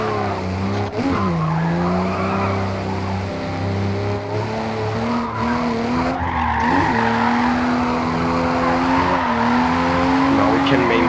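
Continuous engine drone and tire squeal from a car drifting in Forza Horizon, the revs swinging up and down as the slide holds, with gear shifts audible and light talk underneath.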